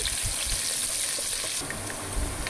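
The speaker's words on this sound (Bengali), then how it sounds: "এখন আমি মাছের জন্য তেল আর পেঁয়াজ দিয়ে দিয়েছি।" Onions frying in hot oil for hilsa fish pulao, a dense, loud, continuous crackling sizzle close up, unbroken throughout with no talking.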